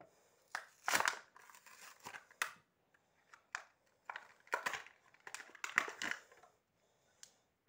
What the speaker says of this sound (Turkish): Şimdi paketi açalım.